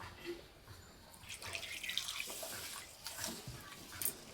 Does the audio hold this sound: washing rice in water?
yes